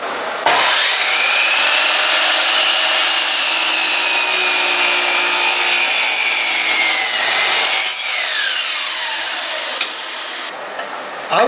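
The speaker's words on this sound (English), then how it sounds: "the best tool we have found for this is actually the miter saw" A miter saw spins up loudly and bites through a wood board for a wine rack, a sustained high whine through the cut, then the blade winds down and stops.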